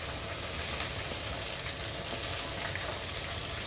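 Onion fries with green chillies, coriander and mint in a pan, giving a steady, dense sizzle like light rain that stays even throughout with no voices.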